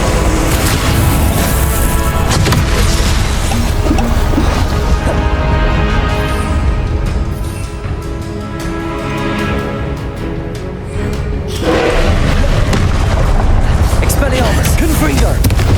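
Repeated Confringo spell explosions in Hogwarts Legacy give loud booms and crashes over a dense, sustained battle din. The noise thins briefly midway, then swells again, and voices are heard alongside.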